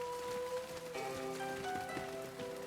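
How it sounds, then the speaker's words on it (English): Rain falls in a video game as a faint, steady patter, heard alone with no voices. "The rain is so refreshing, he says."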